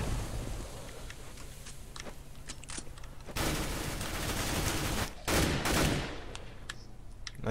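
Bursts of gunfire in a competitive CS:GO match, scattered sharp shots building to heavier sustained volleys mid-clip, with a brief lull and more firing near the end.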